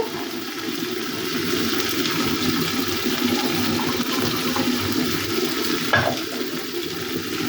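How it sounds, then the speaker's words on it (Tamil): Water pours steadily into a pot of boiling cassava (tapioca root), making a continuous close rushing, bubbling wash with a slight swell near the end and no voices. "தண்ணி ஊற்றி விடணும்."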